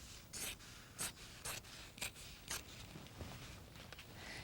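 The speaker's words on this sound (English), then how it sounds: "So all you do is cut your fabric" Scissors snip through fabric in a quiet, close series of about five evenly spaced cuts, each a short crisp swish, over faint room hiss.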